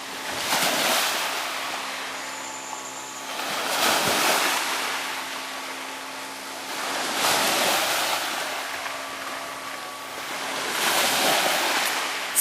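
Ocean waves surge onto a beach at very high tide, with slow swells rising and falling about every few seconds under a constant rush of wind across the microphone.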